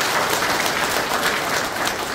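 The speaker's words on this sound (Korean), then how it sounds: "축사해 주신 시장님께 큰 박수 한번 부탁드리겠습니다" Audience applause for a mayor's congratulatory address at a civic members' convention, a dense, steady wash of clapping filling the whole stretch at fairly loud level with no speech over it.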